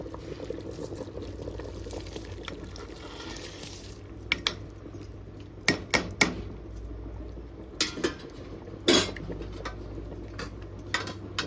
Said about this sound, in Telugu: చికెన్ ఫిఫ్టీ పర్సెంట్ ఉడికిన తర్వాత రైస్ వేసుకోవాలండి మంచిగా కలిదిప్పుకొని